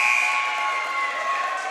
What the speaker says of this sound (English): Jackson Campbell hit a big 3 there just before the buzzer